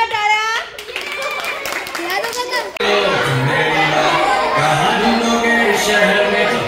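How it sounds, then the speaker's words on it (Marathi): Children and adults at a birthday party play family games, with loud clapping and excited children's voices. An adult talks over the noise, and after a brief pause the hall fills with sustained applause and chatter. "चला मिळतं या दोघींना जोरदार टाळ्या"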